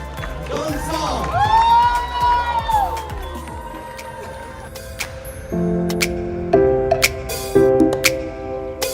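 At the opening of a gold and diamond jewellery showroom in Puttur with an actor, a crowd cheers and shouts loudly, then the noise gives way to music and scattered voices.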